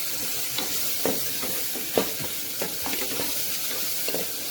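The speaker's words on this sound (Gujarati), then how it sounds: "મસાલાને વેજીટેબલ સાથે સારી રીતે હલાવી દઈશું" A spoon stirs vegetables with Kitchen King spice mix in a hot pan for poha khichdi, a steady sizzle under irregular scraping strokes and occasional light taps of metal on the pan.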